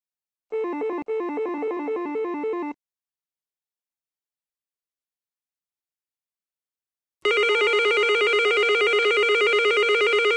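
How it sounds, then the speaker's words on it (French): A TC:Bus intercom indoor station, run from a BVS20 control unit, rings after the landing doorbell button is pressed twice. A short burst of warbling electronic tones sounds first, then after a pause comes a steady, louder electronic ring. "Le fait d'appuyer 2 fois sur le bouton de sonnerie palière de cet appartement active aussi la station intérieure."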